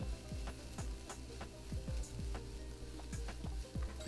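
Onion and two types of mushrooms frying in a pan for a vegan Korean spicy dumpling filling, a soft steady sizzle broken by repeated light knocks and scrapes of stirring.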